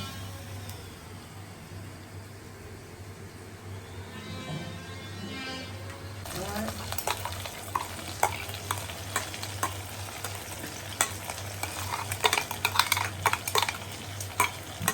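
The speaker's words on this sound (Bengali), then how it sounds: "এখন ভাজা হয়ে গেছে, এখন মশলাটা দিয়ে দেবো এর মধ্যে।" Steady sizzling of frying in a pan, growing louder partway through as spice paste is added, with a spoon scraping and clinking against the pan.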